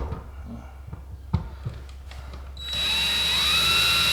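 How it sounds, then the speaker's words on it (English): A power drill on a low setting driving screws while turning a shed into a podcast studio: a few knocks and handling sounds, then a steady, fairly loud whirring drill. "take your drill and just put it on a lower setting, maybe 1. You don't want to go too fast"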